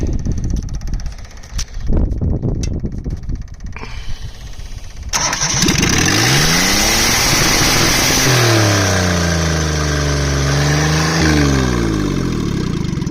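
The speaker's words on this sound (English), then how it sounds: "she's revving way higher than before" A Perkins 103-10 diesel engine in a Cushman Truckster cranks and catches, then runs loud and high. The revs climb and sag while the pitch sweeps up and down, with no talk over it.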